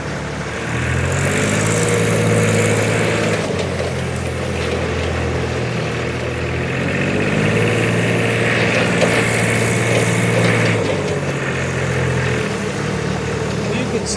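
A Teledyne Princeton D-5000 Moffit three-wheel-drive diesel forklift with hydrostatic drive runs close by, giving a loud, steady, unbroken engine drone that holds nearly constant throughout.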